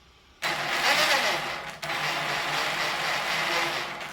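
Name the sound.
Traxxas Maxx RC car motor and gears running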